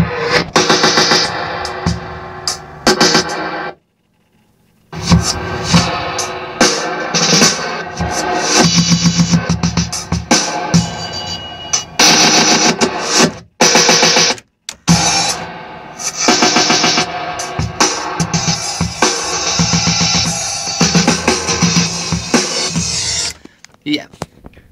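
A recorded drum bar is played backwards with a pitch-shift delay, giving dense swelling hits and smeared cymbal wash, loud and continuous, with brief silent gaps.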